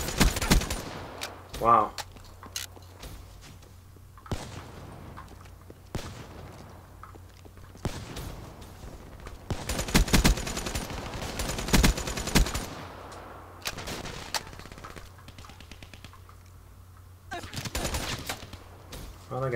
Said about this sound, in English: that guy was firing at me before I even saw him